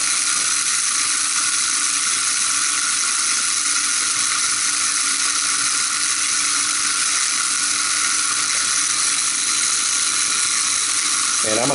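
Texas honey mesquite bean pods being ground fine in an electric grinder, a loud continuous whirring grind held steady close up from start to finish.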